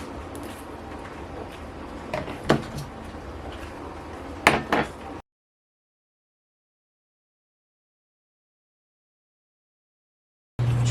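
Kitchen clatter of a cutting board being pulled out and set down while making lemon bars: a steady rustle with a few sharp knocks and clinks, moderately close, then the sound cuts to silence before a brief burst returns at the end.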